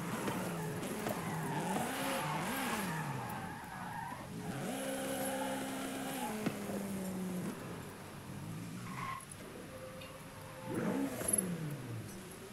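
Lamborghini cars race and drift in the Forza 5 video game, with engine tones rising and falling as they rev and shift, overlapping tire squeals and skids, and a louder burst near the end.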